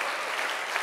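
A brief burst of church congregation applause during a sermon, dense even clapping lasting under a second.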